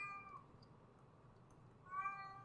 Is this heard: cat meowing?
yes